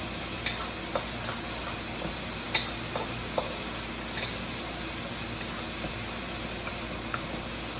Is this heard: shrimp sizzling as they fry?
yes